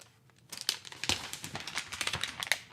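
Packaging paper from a MacBook Air 13-inch 2024 box crinkles and crackles close by in quick irregular bursts as it is pulled open, with a few sharper snaps near the end.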